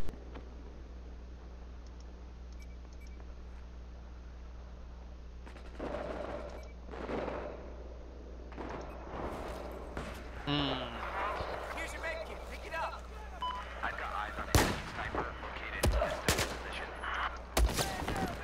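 Video game gunfire with a sniper nearby: bursts of rapid shots and sharp cracks, sparse at first and then denser and louder toward the end, over a steady low hum, with someone talking over parts of it.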